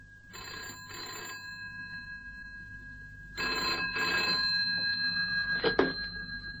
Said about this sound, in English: and then the phone rang